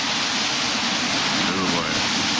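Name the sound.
hurricane wind gust during Hurricane Irma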